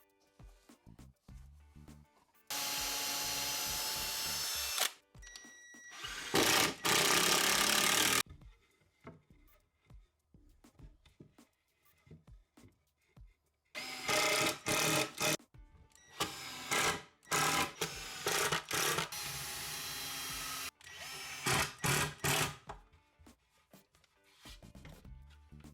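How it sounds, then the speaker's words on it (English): An impact drill drives screws into wood for a router table build, delivering several loud bursts of rapid hammering rattle lasting a few seconds each, separated by quiet pauses. "I'm using an impact drill to put the screws in"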